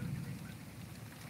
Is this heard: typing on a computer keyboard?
no